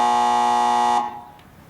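A quiz-show buzzer blares one long, loud, steady electronic tone that cuts off sharply, leaving a quiet room tail afterward.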